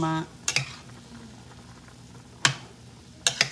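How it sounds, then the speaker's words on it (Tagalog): Garden vegetables simmering and boiling in a pot, a soft steady bubbling bed with a few sharp clinks of a utensil against the pot scattered through. "Pakuluan muna natin ang mga ilang minuto."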